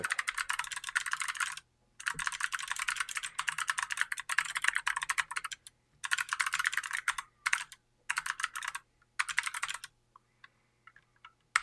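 Fingers type on a computer keyboard in steady rapid bursts of clicking keys, broken by short pauses, close and clear with no talk over it.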